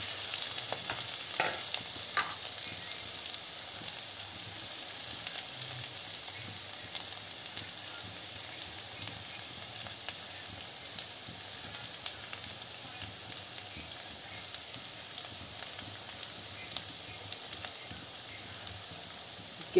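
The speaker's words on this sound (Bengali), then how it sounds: "বেশ লালচে করে ভাজা হয়ে যাবে" Teasel gourd (kakrol) frying in hot oil with kalonji (nigella seeds), giving a steady, close sizzle and crackle that holds evenly throughout with no talking.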